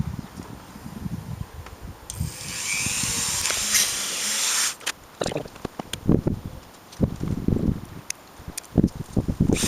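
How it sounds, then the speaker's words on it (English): A small drill bores string holes through a handmade ukulele bridge, giving a steady whirring run of a couple of seconds followed by scattered knocks and handling clatter close by. "now I'm drilling out the holes"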